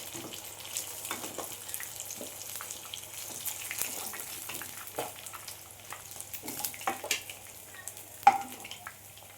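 Rohu fish pieces fry in hot oil in a home kitchen, giving a steady low sizzle with scattered crackles and utensil clicks, one sharper knock near the end; no one speaks.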